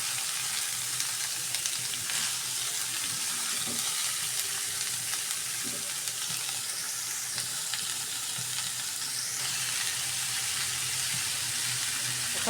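Egg, potato and kakrol bhaji sizzling steadily in a frying pan, with occasional scraping stirs of a spatula over a constant hiss of hot oil, close and continuous.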